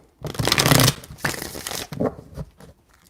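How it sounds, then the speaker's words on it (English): Tarot cards are shuffled by hand, several close, papery riffling bursts in a row, the first the longest and loudest, the later ones shorter and softer. "All right, 3 shuffles."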